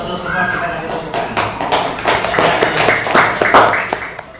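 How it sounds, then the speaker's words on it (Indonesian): Students in a classroom clap their hands in a short, uneven burst of rhythmic claps, fairly close, with voices mixed in. "Kalau betul semua kita kasih tepuk tangan."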